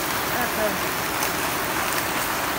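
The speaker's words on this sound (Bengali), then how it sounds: "প্রচন্ড বৃষ্টি দেখেনি এখন হইতেই আছে" Heavy rain pours down in a dense, even roar of broadband noise that stays loud and steady throughout, with a voice faintly under it.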